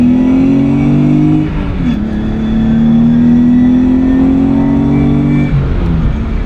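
A 400-horsepower turbocharged Nissan 300ZX running 17 pounds of boost accelerates hard, its engine note climbing steadily in pitch, dipping at a gear shift and rising again, loud and close without any talk.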